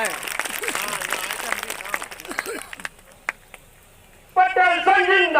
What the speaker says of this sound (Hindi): सब ताली बजाएं